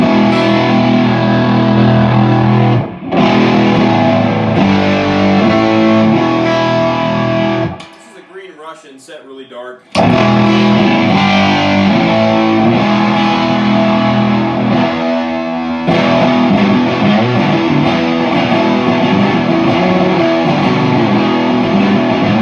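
Electric guitar driven through a Big Muff fuzz into a Music Man HD-150 amp with reverb, loud sustained distorted chords ringing continuously, a brief drop near the middle before the thick fuzz resumes.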